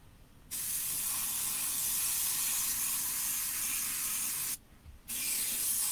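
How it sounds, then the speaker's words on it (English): An airbrush spray gun painting a 1/10 scale RC car body shell hisses in a long, steady burst of about four seconds, stops for half a second, then starts again. No one speaks. "It's just a case of just holding the gun back and just spraying lightly."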